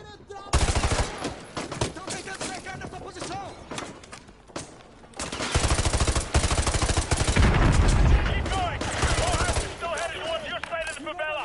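Heavy automatic gunfire in Call of Duty Modern Warfare 2 during a favela firefight, loud rattling bursts that keep going and swell in the middle, with a voice talking over parts.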